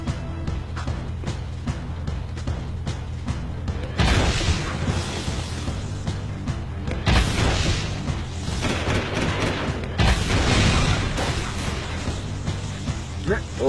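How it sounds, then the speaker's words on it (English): In Jak 2, a gun with infinite ammo fires repeatedly as dense rapid shots and booms. Loud bursts come at around four, seven and ten seconds over continuous game sound. "With infinite ammo, even if you have 0, you can still fire shots"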